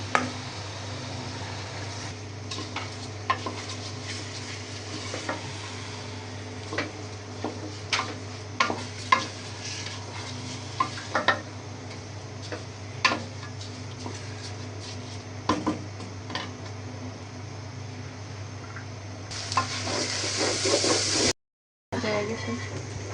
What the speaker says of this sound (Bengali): চাল দিয়ে দিলাম। চালটা দিয়ে আমি একটু ভাজবো।